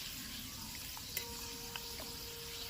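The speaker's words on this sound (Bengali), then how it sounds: "আমি চারটে পাপড়ই ভেজে নিই" Papad frying one at a time in hot oil, a steady soft sizzle throughout with a couple of faint clicks of a utensil, no talk.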